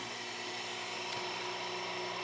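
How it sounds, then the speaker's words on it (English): A wood lathe spins a bowl while a spindle gouge works the underside near the foot, a continuous close whirring hum with a rough, even cutting hiss throughout. "so I'm going to use my spindle gouge"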